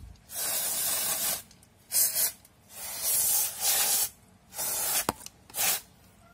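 Cleaning fluid sprays onto a motorcycle disc brake in a series of loud, close hissing bursts of varying length, separated by short pauses, with a small clack between them.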